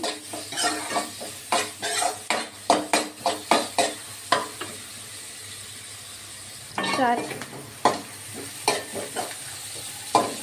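Food frying in a pan with sizzling, punctuated by a rhythmic series of sharp scraping stirs of the spatula against the pan, close and loud, with a short spell of quieter sizzle in the middle.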